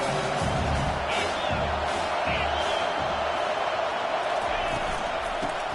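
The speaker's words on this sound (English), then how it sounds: "This crowd knows when to bring it." Stadium crowd noise in the Madden 22 American football video game, a constant loud roar of a large crowd with occasional whoops, under play-by-play commentary.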